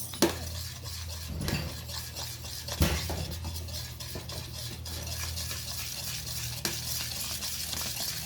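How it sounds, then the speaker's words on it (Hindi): A spoon stirs a homemade cleaning mix of dishwashing liquid in a container. The sound is a quiet, steady scraping and swishing with a few soft clinks against the side, and nobody speaks. "अब इसे मिक्स कर लेना अच्छी तरह"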